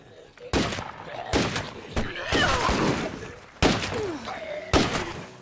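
Repeated loud gunshots in a video game, five or six sharp reports with echoing tails spaced about a second apart, alongside other game effects and a voice.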